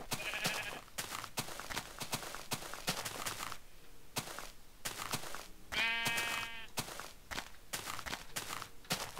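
Sheep in Minecraft give one clear, bright bleat partway through, with steady blocky footsteps and punching thuds around it. No voices.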